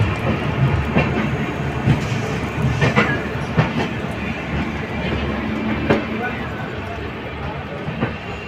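A train runs on rails with a continuous rumbling roar and irregular clacking over the joints, heard from close by, while people talk throughout.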